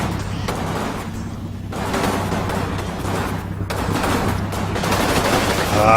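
Dense gunfire fills a World War II firefight in the game Combat Mission Final Blitzkrieg. Overlapping rifle and machine-gun bursts crackle steadily and loudly with no pause, with a low rumble beneath them.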